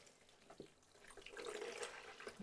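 Tap water runs faintly while dyed fabric from a solar dyeing experiment is rinsed under it, a soft splashing hiss with a few louder splashes, quiet and without speech.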